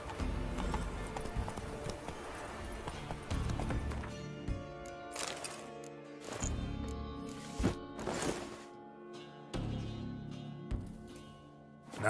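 Hooves of Roach, Geralt's horse in The Witcher 3, clip-clop at a steady gallop, close and loud, layered with background game sounds and occasional louder thuds.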